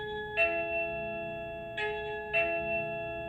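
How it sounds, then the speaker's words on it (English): A classroom bell in an elementary school art room sounds three soft chiming strikes, the first alone and the next two closer together, each ringing tone fading over a faint, steady background hum. "When the bell rings and it's time to clean up"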